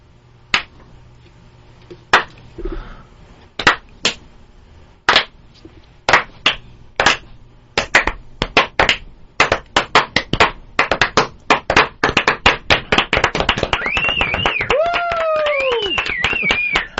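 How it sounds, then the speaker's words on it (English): A slow clap in a radio studio begins with single claps spaced well apart, then quickens into a rapid, loud flurry of hand claps, ending with whoops and voices. "Love the slow clap"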